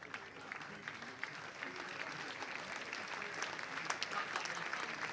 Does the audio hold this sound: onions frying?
no